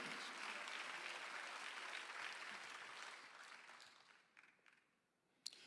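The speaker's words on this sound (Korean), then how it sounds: "내신 하나님을 자랑해야 되는 거 보시면 박수하세요" Congregation applause at a Sunday afternoon church service, a full wash of clapping that holds steady, then thins and fades to scattered claps near the end.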